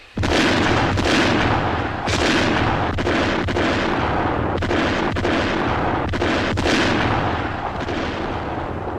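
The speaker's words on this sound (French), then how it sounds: "Mettez en marche artillerie lourde." Heavy artillery firing in a Yugoslav World War II war film, loud booming blasts repeating roughly every second over a continuous roar of battle, with no voices.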